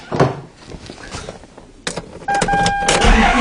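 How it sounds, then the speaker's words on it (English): A Lexus engine cranks without catching on a below-zero cold day with a slightly weak battery, starter whirring steadily for about a second and a half, preceded by a key turning and faint clicks. "It's going to be a cranking no start."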